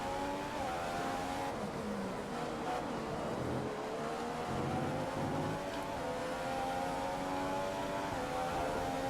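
F1 race cars from the game F1 2015 at the Australian Grand Prix scream past one after another, high engine whines rising and falling steadily over a dense racing roar with no talk.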